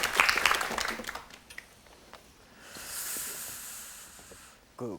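A studio audience on a Korean KBS television storytelling show claps for about two seconds. The applause swells in as a soft, even patter and fades after a quieter stretch of room tone and murmuring.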